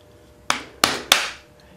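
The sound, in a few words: plastic hammer hitting a dual-action sander part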